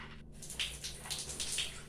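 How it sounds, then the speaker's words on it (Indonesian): Water runs steadily from an opened tap for handwashing, a soft continuous splashing stream heard close up with faint low hum beneath. "Pertama, kita buka keran terlebih dahulu."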